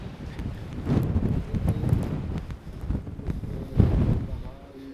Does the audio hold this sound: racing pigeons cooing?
no